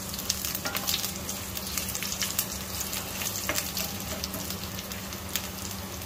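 Steady hissing sizzle of cumin seeds and garlic frying in hot oil, close up, with occasional soft crackles and pops and no talking.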